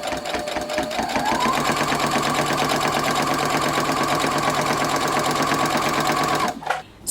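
A sewing machine stitches fabric around a cord in a steady, close, fast whir with a constant mechanical rattle for about six seconds, then stops abruptly near the end.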